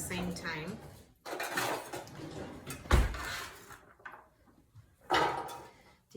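Carrot rounds being tossed into a pan on the stove, with clattering knocks and scraping bursts of cookware handling, one heavier thud midway and another burst near the end.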